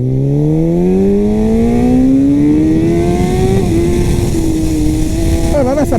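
Kawasaki ZX-10R sport motorcycle accelerating hard, its engine note climbing steadily through the revs in one loud, sustained pull before briefly dropping as it shifts, recorded close with constant wind rush.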